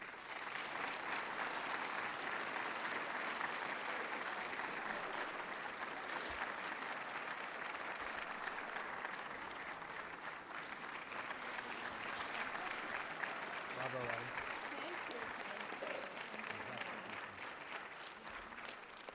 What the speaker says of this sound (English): please join me in applauding these 24 British Columbians who so richly deserve this honor today